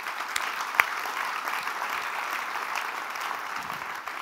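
A church congregation claps steadily and evenly throughout, a dense continuous wash of applause with one sharper clap standing out near the start.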